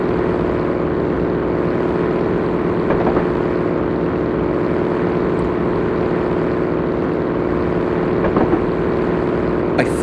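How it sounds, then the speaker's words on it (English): A boat engine with a recently repaired, rough-running motor in a video game, droning steadily and loudly for ten seconds as a continuous low rumble with no pauses. "the engine was fixed last year, but it doesn't sound too good"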